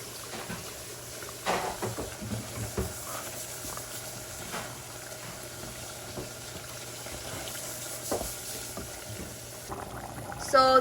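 Tomato gosht bubbles and sizzles in a pot on nearly full high heat, a steady close simmering hiss with occasional spoon knocks and scrapes, and faint voices in the background.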